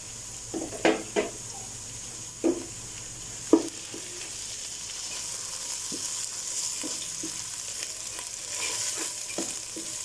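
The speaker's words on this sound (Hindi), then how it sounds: "एक से 2 मिनट के लिए इसको भून लेंगे अच्छे से।" Ginger garlic paste frying in a pan, a steady close sizzle with a few scraping stirs of a spoon against the metal.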